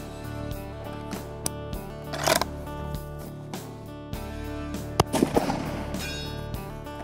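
Ruger American Rifle in a left-handed version firing at distance outdoors, with several sharp, loud reports spaced across the stretch, two clustered bursts standing out, no talk.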